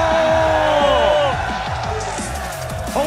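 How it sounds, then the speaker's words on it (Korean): A studio audience at a FIFA gaming tournament match shouts and cheers, a loud, dense mass of overlapping voices filling the whole moment. "함성 한번 질러 주세요."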